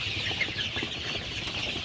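Twenty-five-day-old Sonali super hybrid chicks cluck and peep continuously at close range while drinking water, a busy high chatter over a faint background rustle.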